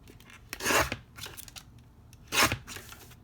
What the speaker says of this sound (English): I'm just going to trim off a tiny little bit on the side and the bottom